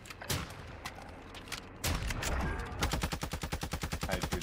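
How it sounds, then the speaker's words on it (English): Gunfire in a Call of Duty Warzone match: a few scattered sharp shots, then a steady run of rapid, evenly spaced cracks that grows louder toward the end. "Whoa, I'm getting sniped."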